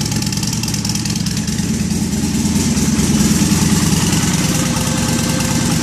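Buell XB motorcycle engine running on a DDFI-3 ECM, a steady loud idle with deep low throb and constant mechanical rumble, close by with no talk.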